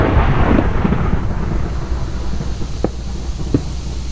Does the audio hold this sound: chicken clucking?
no